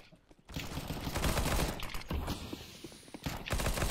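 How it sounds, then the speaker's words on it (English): Bursts of gunfire in CS:GO, fired through a wall, as a rattling cluster of shots over several seconds with short pauses, at moderate level against background game sounds. "I can shoot through the wall."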